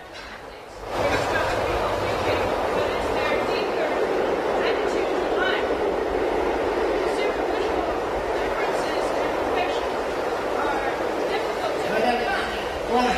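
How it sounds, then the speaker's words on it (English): A train passes near a meeting where a question-and-answer discussion is under way, a steady broad rumble and roar that swells in after the first second and carries on without a break. "Can't you hear that train?"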